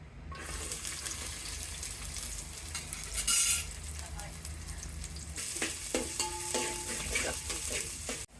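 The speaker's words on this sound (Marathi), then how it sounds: "मी पातेल्यात दोन चमचे तेल टाकून कांदा फ्राय करत आहे" Steady hissing sizzle of onion frying in oil in a pot, with a few clinks of a utensil against the pot.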